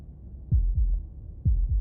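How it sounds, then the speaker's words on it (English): Heartbeat in paired thumps, lub-dub, heard twice in under two seconds: low, close and muffled, with a faint hum underneath and no voices. "That was the sound of a heartbeat,"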